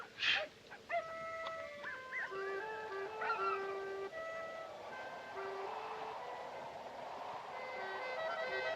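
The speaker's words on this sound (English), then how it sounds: "Dogs are noisy tonight." Several dogs barking, yipping and whimpering at night in a snowy northern setting, a string of short calls and whines over a steady wind-like hiss, moderately near.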